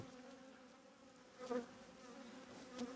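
Honey bees buzz steadily across a hive frame during an inspection, a close, continuous drone with a couple of brief louder swells as bees pass near.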